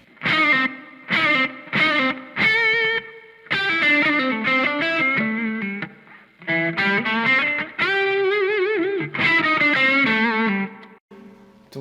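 An electric guitar played straight through a distortion effects pedal with no amplifier gives heavily driven, chorused chords and bent notes in short phrases, separated by brief gaps, loud and alone.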